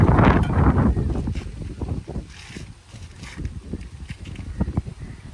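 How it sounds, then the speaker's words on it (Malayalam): Strong wind gusts buffet the microphone on an exposed rooftop at a building site where a glass safety wall is being fitted, loud rumbling bursts with irregular knocks and clatter throughout. "നമ്മൾ ഏറ്റവും ടോപ്പിലായതുകൊണ്ട് നല്ല കാറ്റ് വരുന്നുണ്ട്"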